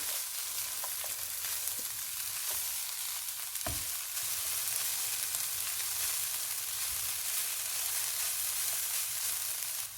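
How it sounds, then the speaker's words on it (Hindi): Chicken frying with capsicum and cabbage gives a steady, close hiss and sizzle in a pan, with a few faint stirring clinks and a soft low thump partway through. "शिमला मिर्च, बंद गोभी, इनको 2 से 3 मिनट तक भूनेंगे।"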